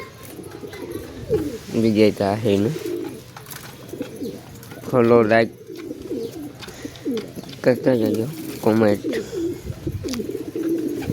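Pigeons coo in repeated low, throaty bursts, several close calls spaced through the stretch, while someone talks over and between them.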